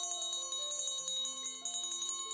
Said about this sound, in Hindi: लिमिटेड सेल की घंटी बज गई